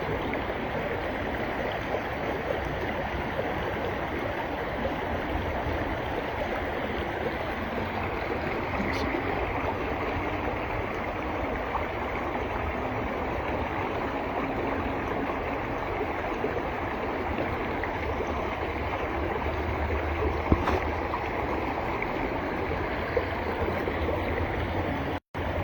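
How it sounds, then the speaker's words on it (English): A river flows steadily through woodland, a continuous broadband wash of rushing water that stays even and close throughout, with no voices. "That's the river."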